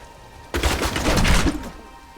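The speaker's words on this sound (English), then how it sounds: "Definitely blowing some stuff up." Explosions in the Diablo III action game, a dense burst of rumbling blasts and crackling impacts lasting about a second, loud and close with no talking.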